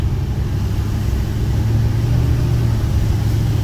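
A Ford 6.4L Powerstroke diesel pickup, one that won't build boost and blows excessive smoke, idles loud and close with a steady, deep rumbling drone throughout.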